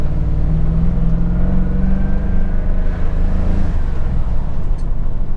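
A Ford F150 pickup floored at full throttle, with a suspected throttle position sensor fault that makes it sluggish: a loud, continuous engine drone whose tone climbs slowly, with no voices over it.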